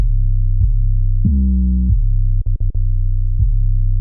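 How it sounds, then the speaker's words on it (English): Glitchy synth tones sit over a deep sustained 808 bass beat, with a brief pitched bend and a quick stuttering triple blip cutting through the steady low throb. "And that's glitch on top of the 808."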